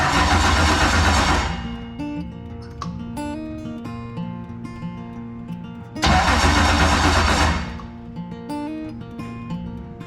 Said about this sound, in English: see if it engages, see if it'll crank the engine